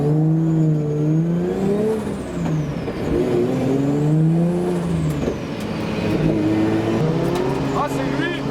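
A Nissan S14 engine revs loud and close as the car pulls away, its pitch climbing and falling through several rises with a steady, continuous roar, while people talk over it.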